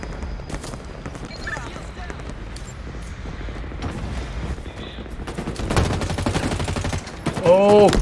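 Rapid gunfire in Halo sounds in bursts that build toward the end, with a loud flurry of shots and a blast, while a person talks quietly over the action.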